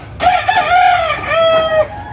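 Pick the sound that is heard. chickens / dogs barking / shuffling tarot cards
chickens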